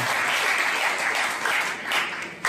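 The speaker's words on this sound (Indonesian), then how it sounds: "Tepuk tangan lah buat Bung Rocky dan bapak-bapak yang di depan." An audience at a campus event applauds for Rocky Gerung, a steady, loud wash of clapping that carries on through the whole stretch, with brief surges and no talk over it.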